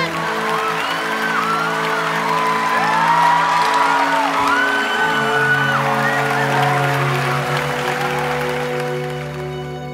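Studio audience on a Vietnamese television talent show applauding and cheering for young contestant Thế Anh, loud sustained clapping with whoops and shouts over backing music, swelling then slowly fading.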